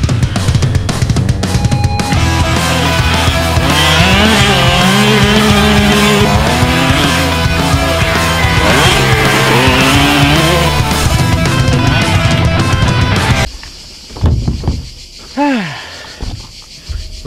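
A motocross motorcycle engine revs hard on a dirt circuit, loud and close with rising and falling pitch as the rider works the throttle, then cuts off abruptly into quieter wind and rustling with brief whistling sweeps.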